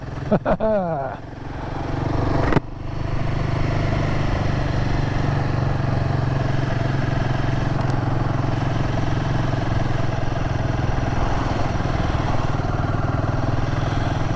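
Royal Enfield Himalayan 450 single-cylinder motorcycle engine running: a brief rev and a sharp clack, then a steady, loud, throbbing idle that holds unbroken to the end.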